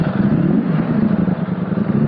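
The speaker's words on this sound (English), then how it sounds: "You cannot imagine in inline 4 this kind of stock exhaust sound you can get." BMW S1000RR inline-four on its stock exhaust, a loud, close, sustained revving drone with a rough, pulsing tone and no talk over it.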